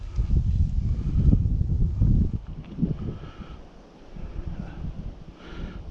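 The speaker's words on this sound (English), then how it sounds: "We got a wind blowing toward us." Wind gusts across an open outdoor throwing course, a broad low roar that swells strongly through the first few seconds, eases, then rises again, with rustling on top.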